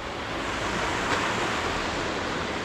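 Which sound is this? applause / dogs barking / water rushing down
water rushing down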